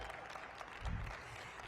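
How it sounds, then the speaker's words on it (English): An audience applauds the mayor at an indoor city event, a brief, moderately loud round of clapping that swells near the end. "Clap for that, Mayor."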